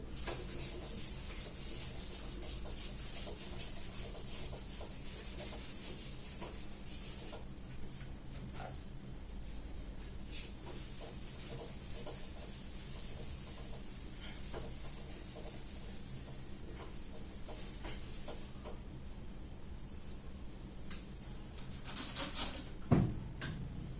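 Writing is erased from a board during a technical exam lesson, with a long, steady, soft rubbing that continues almost without pause and ends with a few brisk strokes.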